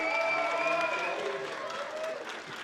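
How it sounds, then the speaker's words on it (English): A convention crowd applauds and cheers for Anthony Daniels, a soft wash of clapping under sustained musical tones, fairly distant and fading slightly toward the end. "But even bigger round of applause for the man himself."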